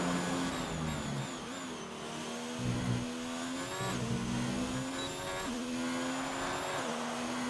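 An F1 race car, heard onboard through a lap of Austria in an F1 game, howls at high revs, climbing through the gears with sharp drops at each shift, loud and close throughout.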